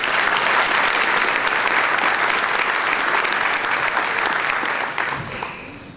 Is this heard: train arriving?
no